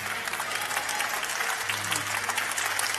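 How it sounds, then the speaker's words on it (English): An audience at a reception claps for a performer, a loud, continuous wash of applause with a faint low hum running underneath. "Let's give a round of applause for Ben."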